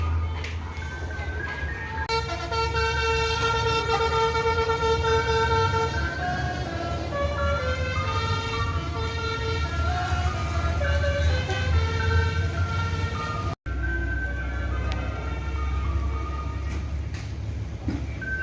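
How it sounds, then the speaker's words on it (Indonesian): A large bus plays a long melodic horn tune as it pulls into Barai bus terminal in Solo, engine rumbling underneath and traffic noise around. "ini bus Sumbar pertama masuk terminal Barai Solo"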